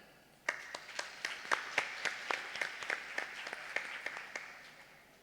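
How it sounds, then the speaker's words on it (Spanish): A university lecture audience breaks into steady, moderate applause, with many hands clapping together in a fairly even rhythm for several seconds after a brief quiet start. "Démosle un aplauso."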